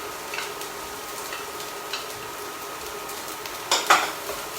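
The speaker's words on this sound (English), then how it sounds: "now it's all about just keeping it stirred, mixing it all up" Onions, carrots and peas are stirred in a frying pan for vegan fried rice, giving a soft steady sizzle with scattered scrapes and a couple of louder utensil knocks near the end, no voices.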